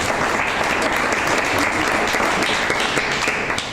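An audience claps together in a steady, dense burst from start to finish, loud and close, with a faint murmur of voices underneath.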